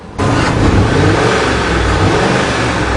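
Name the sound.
Ford engine idling roughly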